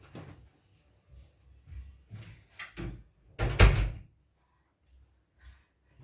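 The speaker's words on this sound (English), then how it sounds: "I'm gonna close my door again" A room door swinging shut in a quiet indoor space, with a clear thud near the 3.5-second mark following a few softer knocks and handling sounds.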